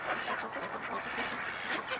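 Ducks quack in a dense, overlapping chatter as they are being locked into their pen, several birds calling close by in rapid, continuous bursts.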